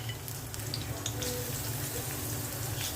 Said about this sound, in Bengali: পাতিলায় তেল দিয়ে দিচ্ছি, পেঁয়াজ দিয়ে দিচ্ছি।